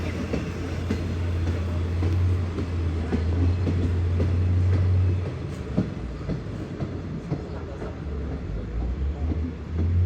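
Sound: train passing

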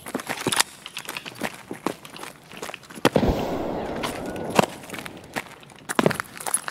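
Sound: grenade explosion in the video game Escape From Tarkov

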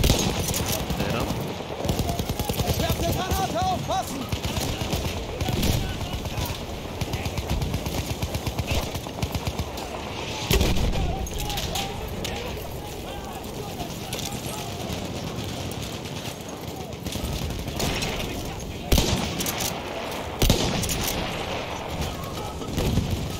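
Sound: sniper rifle gunfire in video game Battlefield 1

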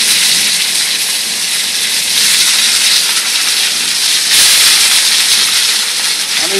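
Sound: searing meat for steak ranchero

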